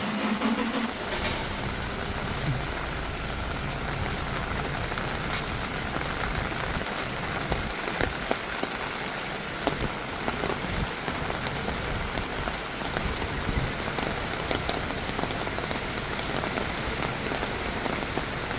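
Heavy rain pours down steadily, a dense wash of drops drumming on a surface with no pause throughout.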